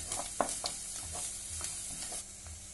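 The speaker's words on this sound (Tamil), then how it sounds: "இதை நல்லா வதக்கிடலாம்." A ground paste of onion, ginger, garlic and spices sautés in a pan, with a soft steady sizzle and intermittent scraping stirs, heard close and fairly quiet.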